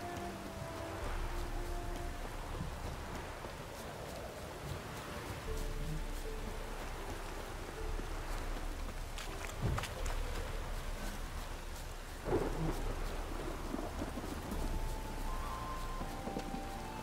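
Steady rain patters across surfaces in the Witcher 3 video game, a constant soft hiss with faint drops, with a low thunder rumble coming through once or twice.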